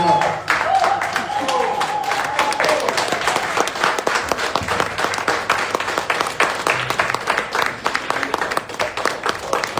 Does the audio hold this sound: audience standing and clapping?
yes